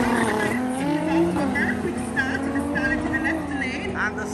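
A Toyota Starlet and a Nissan GTR launch side by side at a drag strip, with loud engines revving and roaring steadily throughout while a commentator's voice carries over the top.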